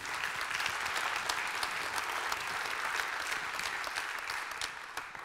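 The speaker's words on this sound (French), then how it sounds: "ils méritent un grand applaudissement pour leur performance" Steady, dense applause from a conference audience at the Swissquote Trading Day 2023, honouring the speakers; even, sustained clapping from a large crowd for about five seconds with no voices.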